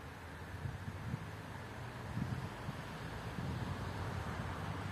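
Steady strong wind roars as a motor glider flies at height, a constant broadband rush with a low rumble and no voices.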